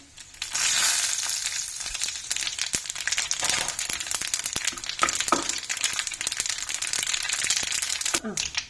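Sesame seeds fry with dried chillies and asafoetida in hot oil, a dense crackling sizzle with scattered pops and stirring scrapes, steady and close throughout.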